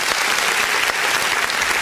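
During a Sunday communion service, a church congregation applauds, loud, dense clapping filling the sanctuary without pause.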